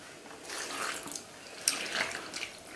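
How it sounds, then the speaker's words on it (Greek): Water is poured into sourdough starter for village bread, a faint, splashy trickle that comes in a few uneven surges and fades between them. "Κοιτάξτε, προσθέτει νερό,"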